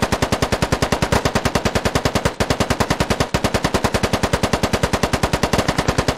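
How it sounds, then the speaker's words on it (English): Automatic gunfire in the video game Squad, firing at a ridge line: a loud, rapid, unbroken stream of evenly spaced shots with a couple of brief pauses. "just trying to spend some ammo to suppress the ridge line"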